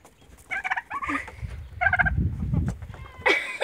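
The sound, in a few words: turkey gobbling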